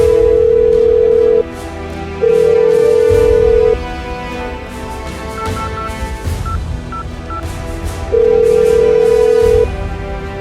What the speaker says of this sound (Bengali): ফোন ধরতে না কেন